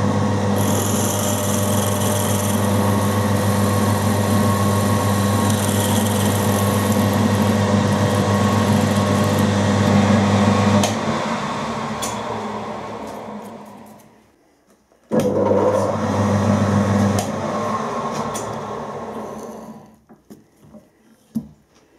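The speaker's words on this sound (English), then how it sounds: "the drill running nice and fast because it is a small drill." A small drill fitted with an M5 tap runs fast on a machine, a steady loud whirring hum that winds down, stops briefly, then spins up again before fading with a few light clicks.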